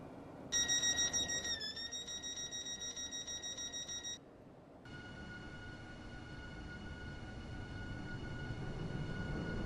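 A Roblox Stepford County Railway train on a Stepford Connect service plays a steady synthetic tone with a rhythmic pulse, then after a short pause a rising, constant running drone and rumble as the train moves, with no talk.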